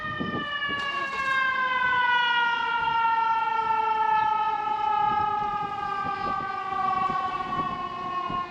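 A Downers Grove Fire Department fire truck siren wails steadily with slowly falling tones, loud and sustained throughout, over a low rumbling background.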